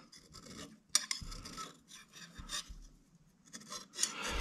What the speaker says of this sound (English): So I'll just take the scraper here and just work that off.